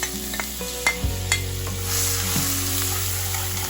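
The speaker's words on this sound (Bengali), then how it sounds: "কড়াইটা গরম করে নিয়ে সর্ষের তেল অ্যাড করে দিচ্ছি কড়াইয়ে তেলটা ভালোভাবে গরম করে নিয়েছি এইবার গুঁড়ো মশলা আর আদাটা অ্যাড করে দিলাম" Ground spices and ginger hit hot mustard oil in a wok and sizzle briskly and steadily, with a few soft stirring scrapes close by.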